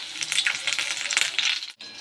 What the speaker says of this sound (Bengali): তো এটা ঝটপট করে একটু ভাজা হোক